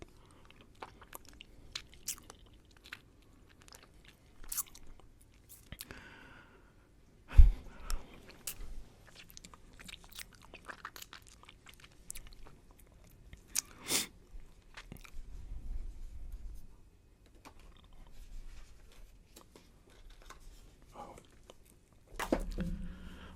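Close, quiet crunching and chewing of Juicy Drop Pop sour candy, with irregular bites and mouth sounds scattered over about twenty seconds and one sharp loud crunch.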